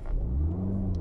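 A 136 hp petrol Citroën Xantia Exclusive accelerates on the road, its mid-pitched engine droning steadily and fairly close. No one speaks.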